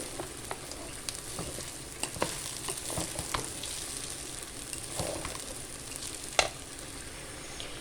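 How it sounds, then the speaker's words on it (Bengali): Rice and lentils stir-fried together in a pot for bhuna khichuri, a steady close sizzle broken by repeated scraping strokes of a spatula and occasional sharper knocks, with no voices. "চাল ডালটা কি সুন্দর ভাজা হয়েছে"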